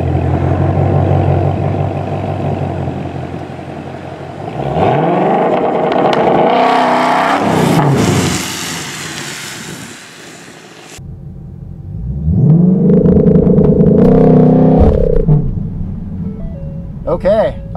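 A 2020 Ford Shelby GT500 accelerating hard during a drag test, its supercharged engine revving up in loud rising pulls with shifts, then a second hard run, close and dominant over a rumbling cabin with a voice briefly present.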